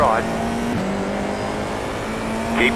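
An F4 race car's engine drones steadily on the track at Summit Point, heard from inside a car with a brief radio voice at the start and end of the short pass.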